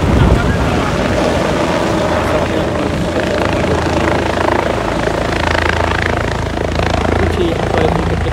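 A loud, steady helicopter roar with constant rotor drone dominates throughout, close and unbroken, with some wind rumble mixed in.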